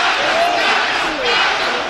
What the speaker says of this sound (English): you can see the fans of Carterefe chanting his name